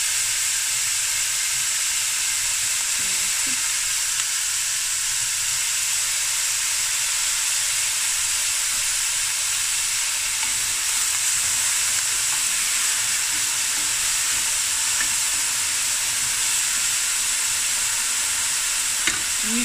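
Chopped onions sizzle and hiss steadily in hot oil for a Cape Malay tomato ox trotters stew, with occasional soft scrapes of stirring, close and continuous with no talk.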